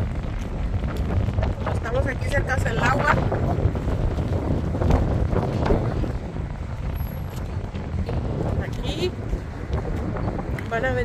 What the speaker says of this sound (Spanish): está fuerte el airecito. Estamos aquí cerca del agua.